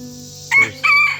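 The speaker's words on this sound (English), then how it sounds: "little bantam Seabright. He is the king of the roost here." A bantam Sebright rooster crows close by in a backyard chicken run, two bright strained bursts in quick succession over a steady low background hum.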